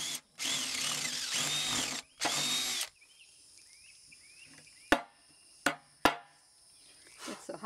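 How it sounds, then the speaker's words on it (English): A power drill whirs loudly in two bursts into wood for a carpenter bee trap, then a quieter stretch with a few sharp knocks and clicks. "And then he'll drill the center hole again for the bee to go through."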